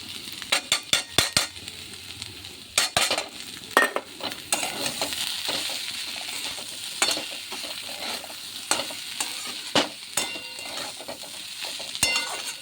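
Small fish frying in oil with potatoes and beans, a constant close sizzle with frequent sharp spatula scrapes and clinks against the pan, dense early and then more spaced out.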